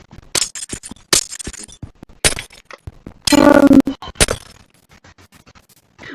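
Glass blocks break in Minecraft in a few sharp, bright shattering crashes spaced apart, nearby and clear, with one longer tinkling burst in the middle and quiet clicks between them.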